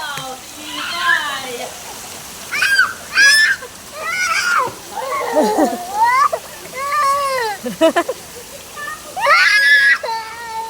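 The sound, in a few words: children splashing water while bathing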